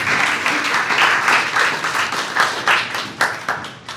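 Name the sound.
applause for Representative Pierce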